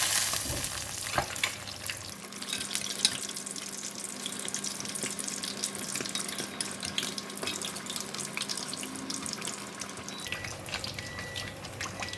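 Fish deep-frying in hot oil, crisping on its second side, gives a steady broadband bubbling sizzle that runs unbroken and fairly loud throughout, with no voices.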